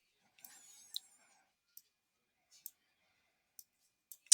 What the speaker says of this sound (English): I'm going to right click and edit view